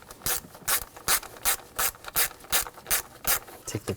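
A ratchet snugs down bolts on the 3.0L inline-six engine of a 2000–2006 BMW X5, with about ten evenly spaced, crisp clicking strokes in a steady rhythm, close and clear with no talking.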